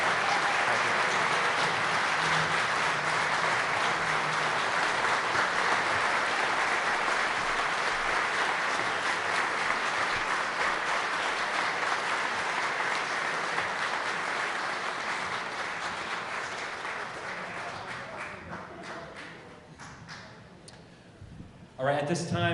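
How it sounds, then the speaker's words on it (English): Sustained audience applause at a chamber of commerce awards presentation, a broad wash of many hands clapping that holds steady, then gradually fades near the end before a few final sharp sounds. "a big round of applause for our 2017 Citizen of the Year, Dr. Walter Horman"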